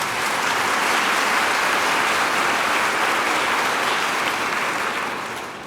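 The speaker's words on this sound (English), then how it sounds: "They're clapping about the fun part, right?" Dense, steady applause from a large audience at a writers' awards ceremony, loud and continuous before tapering slightly at the end, with no voices over it.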